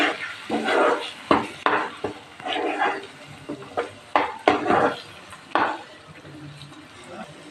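A spice mix of crushed peanuts and sesame is stirred in a cooking pot, with a spoon clanking and scraping against the metal in loud, irregular strokes.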